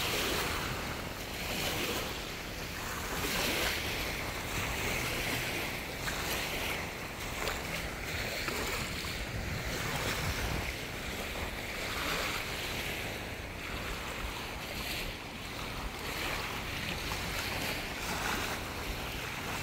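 Sea waves wash onto a Croatian beach in September, a continuous soft surf with gentle rising and falling swells mixed with light wind noise, moderately faint and with no voices.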